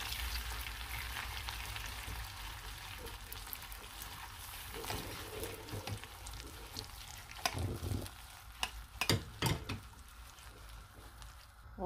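Chicken pastilla mixture bubbling and simmering in a pan, a soft steady frying hiss with a few sharper spatters and clicks toward the end.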